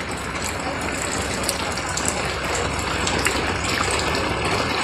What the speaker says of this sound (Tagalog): hirap na hirap yung mga motor dumaan kasi nga napakalalim